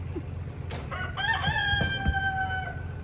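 A rooster crows one drawn-out cock-a-doodle-doo in a garden where chickens roam free, with soft clucks and low rustling underneath, moderately close.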